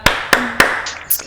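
Hand claps at a children's Pramuka scout session: three crisp, evenly spaced claps close by, followed by a couple of fainter, lighter sounds.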